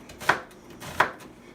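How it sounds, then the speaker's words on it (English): Two crisp knife chops through an onion land on a board about a second apart, close and clear with near silence between them. "I'm gonna chop the onion real quick"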